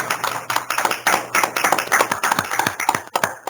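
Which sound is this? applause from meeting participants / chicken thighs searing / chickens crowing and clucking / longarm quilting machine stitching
applause from meeting participants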